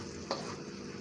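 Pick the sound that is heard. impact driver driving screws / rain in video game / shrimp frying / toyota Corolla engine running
shrimp frying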